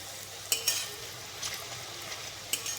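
Aloo bhujia frying in hot oil while being stirred and turned, a soft continuous sizzle broken by a few brief scraping clinks of the utensil against the pan.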